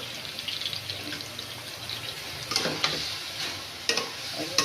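Tangra fish chorchori cooking in a pan, with a soft steady sizzle and occasional scraping stirs of a utensil, faint and close with no talking.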